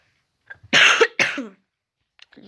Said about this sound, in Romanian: Trebuie un pic să tușesc un pic.